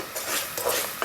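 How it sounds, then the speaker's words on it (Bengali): A spoon stirs and scrapes through a spice paste of turmeric powder and ground ginger, garlic and cumin as it fries in a pan, with a soft sizzle underneath; brief, close, repeated strokes. "এটা 5 মিনিট কষাবো।"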